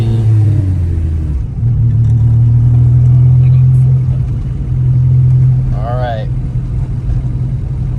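An Acura Integra with a B18C1 engine, ACT clutch and lightweight flywheel, runs in gear with a steady low hum and rumble, its pitch rising briefly near the end, while someone speaks briefly inside.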